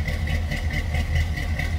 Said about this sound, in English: Hear it run. A little cam in that 350 underneath the hood. Flowmasters underneath there.